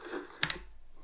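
Two quick clicks of keys pressed on a Loupedeck+ editing control surface, close and fairly crisp, with low room tone around them.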